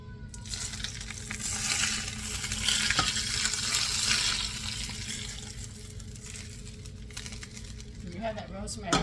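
Butter sizzles steadily around braised stuffed pork chops in a pan, with scraping and stirring noises on top and a muffled voice in the background.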